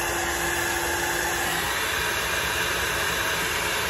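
A hair dryer set on hot blows over alcohol ink on a metal butterfly, a loud, steady roaring whoosh with a faint whine, continuous throughout and without speech.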